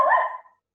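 A small dog gives a single short, sharp bark close by, which quickly fades into silence.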